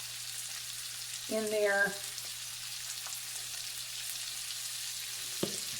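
Brussels sprouts browning in a hot pan give off a steady, low sizzle that runs throughout, with a brief spoken voice near the start and a soft clink toward the end.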